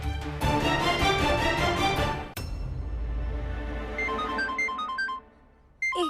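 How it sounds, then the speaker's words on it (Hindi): A phone ringtone in a Hindi TV drama scene, a melodic electronic ring with stepped tones over background music, loud and clear, pausing briefly before starting again. "मुझे एक जरूरी कॉल आया"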